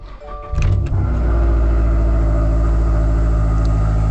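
A 2022 Toyota GR86 with a Borla aftermarket exhaust cranks and fires up with a loud burst from the exhaust, then settles into a deep, steady, rumbling idle close by.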